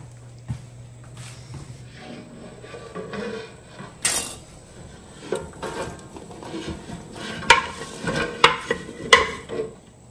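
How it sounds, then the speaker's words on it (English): Jalapenos in sugar syrup being stirred in a pot, with quiet scattered clinks and scrapes of a utensil against the pot and a faint bubbling simmer, one louder clatter partway through. "So I'm gonna stir them up and then simmer them for 5 to 8 minutes."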